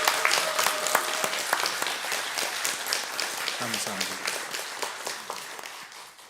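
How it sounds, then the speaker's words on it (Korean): A church congregation at a Christmas Day service gives a round of lively applause with sharp individual claps that gradually thin out, while someone briefly speaks partway through. "우리 한번 격려의 박수 한번 다시."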